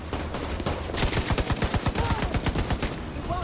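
M60 machine gun firing in a Tom Clancy video game: a rapid burst of evenly spaced, punchy shots lasting a few seconds, loud and close with no talk over it.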